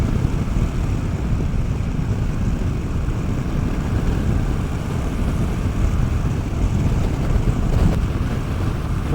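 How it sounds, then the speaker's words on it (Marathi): Loud, steady roar of wind buffeting the microphone on a motorcycle riding along an open road, a dense unbroken rush with no talk. "हवा बहुत चालू आहे रस्त्यावर, म्हणून तुम्हाला आवाज बी येत असेल हवेचा."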